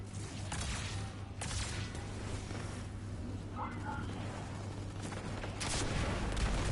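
Sustained automatic turret gunfire in Destiny 2's Onslaught mode, rattling continuously with louder bursts throughout amid other combat noise, voices talking faintly underneath.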